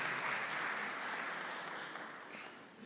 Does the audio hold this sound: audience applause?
yes